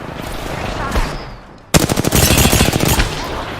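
Video game gunfire erupts as rapid automatic bursts after a quieter stretch of muffled game ambience, loud and close with a brief radio-style callout under the opening.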